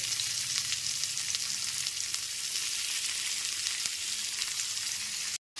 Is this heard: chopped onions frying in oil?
yes